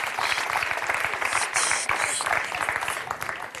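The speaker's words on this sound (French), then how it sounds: "arrêtez d'applaudir" A studio audience applauds steadily at a French television talk show, dense clapping that keeps going with brief swells and no break.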